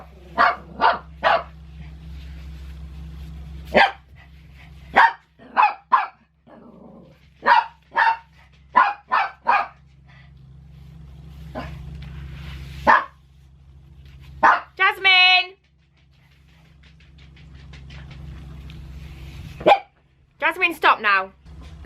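A pet dog barks repeatedly indoors, sharp close barks in short bursts and pairs with a few whiny yips, separated by quieter pauses.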